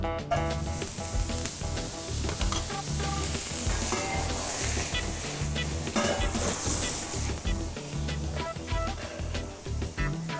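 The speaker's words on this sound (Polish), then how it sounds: "Masło klarowane, którego użyliśmy do infuzji, wkładam na patelnię." Clarified butter sizzling loudly and steadily in a hot frying pan, a dense crackling hiss with scraping and stirring noises over it, no talking.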